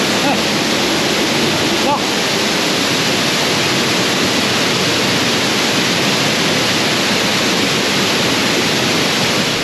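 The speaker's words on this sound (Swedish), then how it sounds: "Men vi simmar mot vattenfallet." A waterfall in Pakse, Laos roars as a loud, dense, unbroken rush of water that fills the whole clip, with a brief word spoken close by near the start.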